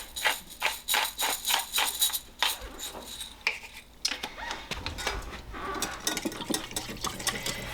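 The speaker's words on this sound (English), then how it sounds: "So I'm just gonna whisk this together." Whisking a cornstarch and pepper gravy mixture for a venison dish gives a run of quick, rhythmic clicks of the whisk against the bowl, then a rougher, steady swishing.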